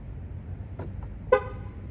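A car gives a short horn chirp as it locks after a hand is swiped near the door handle, one sharp close toot preceded by faint clicks in a quiet setting.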